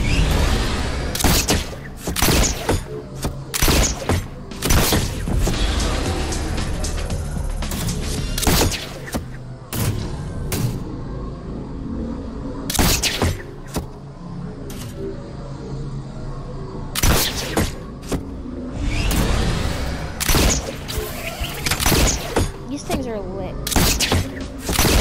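Grenade explosions in the Driftboard video game go off as repeated sharp booming bursts at irregular intervals, loud and close, with a person talking throughout.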